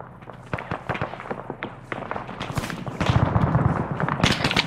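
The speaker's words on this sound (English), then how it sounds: "we're being shot at" Gunfire in a military video game during a large town invasion, with rapid close and distant shots and bursts crackling irregularly, growing denser and louder over the last couple of seconds.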